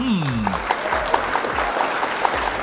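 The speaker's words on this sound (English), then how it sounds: "Round of applause for opponent." Audience applause after a Flesh and Blood trading card game match rings out as a steady patter of clapping from a small crowd, with a voice speaking briefly over the start.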